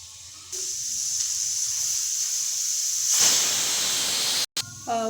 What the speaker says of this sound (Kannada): ಇವಾಗ ಲಿಡ್ ಕ್ಲೋಸ್ ಮಾಡಿ ಒಂದು ವಿಷಲ್ ಹೊಡೆಯೋಣ.